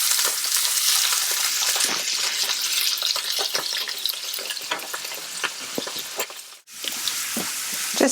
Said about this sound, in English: My pan is very hot because we want it to sizzle when it goes in.